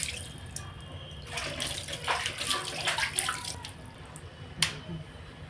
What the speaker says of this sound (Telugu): నీట్గా శుభ్రంగా కడుక్కోవాలా.